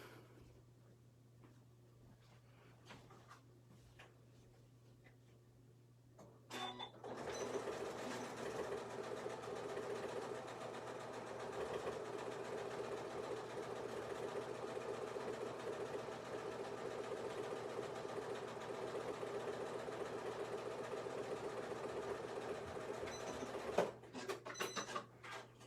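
A sewing machine stitches a French seam on a small tote bag. It opens with quiet room hum, then runs at a steady speed for roughly seventeen seconds before stopping with a few clicks.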